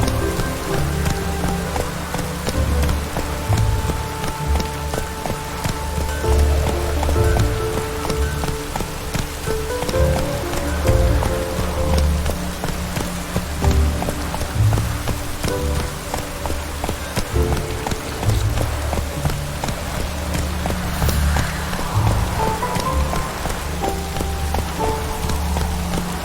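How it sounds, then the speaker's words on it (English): Heavy rain pours steadily onto a surface, a dense, continuous patter with close drops tapping throughout. "It's raining buckets!"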